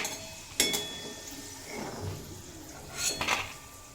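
Fried potatoes lifted out of a pan with metal utensils, two clusters of sharp clinks and scrapes against the cookware, quiet and close, with soft sizzling and handling noises between.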